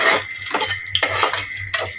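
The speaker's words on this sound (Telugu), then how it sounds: "కొంచెం వేయించితే సరిపోతుంది" Whole spices (cardamom, nutmeg, cinnamon, star anise, mace, marathi moggu and bay leaves) frying in a pan for vegetable pulao: rhythmic metal stirring scrapes over a light sizzle, close and clear, with no talking.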